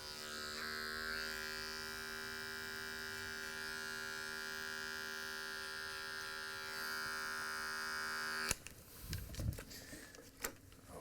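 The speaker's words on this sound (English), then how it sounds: "then close the clipper down" An adjustable electric hair clipper buzzes steadily and close up while fading hair for a low fade, then cuts off abruptly near the end, leaving a few soft handling clicks and rustles.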